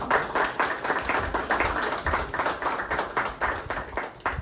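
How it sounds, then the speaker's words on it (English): A room of listeners at a Clinton County Historical Society talk gives a round of applause to welcome a speaker, with close, irregular clapping from a small crowd that continues steadily throughout. "if you would please welcome Michael with a round of applause"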